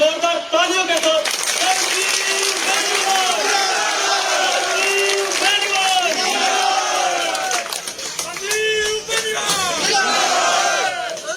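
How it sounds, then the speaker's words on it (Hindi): Loud, dense crowd noise at an election rally, with cheering and shouting voices layered over scattered clapping, sustained throughout with a brief dip near the end. "जोरदार तालियों के साथ"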